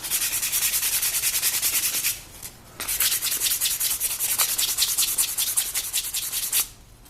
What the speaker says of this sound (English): always come back and sand again